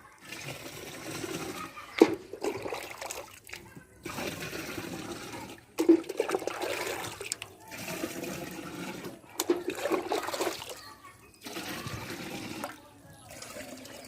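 Water gushes and splashes into a drum in several long pours separated by short pauses, close by, with a hollow rushing quality.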